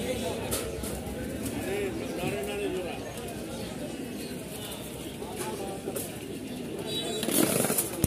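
Pigeons coo at a busy pigeon market, soft repeated cooing and bird calls mixed with a crowd's chatter and people talking nearby, with a passing motorcycle faintly behind.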